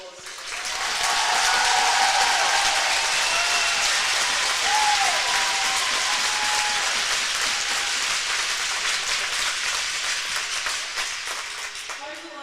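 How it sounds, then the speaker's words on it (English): An arena crowd applauds after a women's hockey gold medal game between the USA and Canada in Green Bay, sustained dense clapping with cheers, loud and steady before easing toward the end. "let's give them a well-deserved round of applause"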